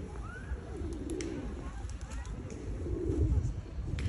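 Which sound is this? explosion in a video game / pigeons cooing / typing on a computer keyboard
pigeons cooing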